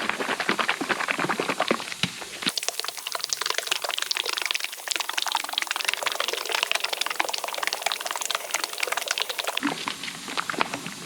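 Rapid sloshing and rattling of liquid DIY bedliner mixed with colour, shaken hard inside a capped bottle filled to the neck; a continuous, fairly loud agitated splashing that runs for most of the stretch, with quieter handling at the start and end.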